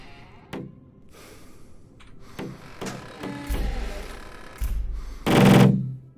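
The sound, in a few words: creature banging on a window in video game Cataclysm DDA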